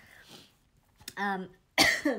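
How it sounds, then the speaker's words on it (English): A few throaty coughs close to the mic, brief bursts separated by short pauses, with no talking. "I think the cream makes me cough"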